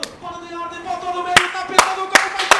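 A few sharp hand claps ring out at irregular intervals over a sustained musical tone, fairly close and moderately loud, in a Brazilian football talk-show studio celebrating Internacional.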